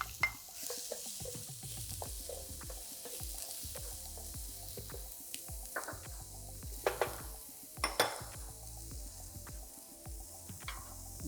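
Onion frying with chorizo in olive oil in a pan for paella, a steady sizzle with stirring and occasional clinks of utensil against the pan, close and alone without talk.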